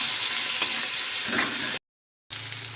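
Tomato and ginger-garlic paste fry in hot oil, a close, steady sizzle with stirring scrapes mixed in; it cuts out abruptly for about half a second and then resumes.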